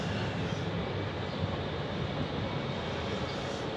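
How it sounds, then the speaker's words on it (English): Two trains roll across the Oberbaumbrücke over the Spree in Berlin, giving a continuous broad rumble of wheels and cars, steady and moderately distant throughout, with no voices. "2 trains crossing."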